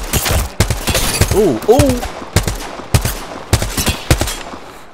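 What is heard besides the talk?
gunfire from a video game gun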